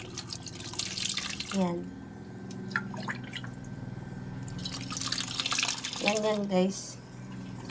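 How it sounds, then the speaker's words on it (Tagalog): Water pours into a saucepan holding young buko coconut, with a running trickle and splash punctuated by drips as a person talks over it. "Lalagyan natin ng tubig."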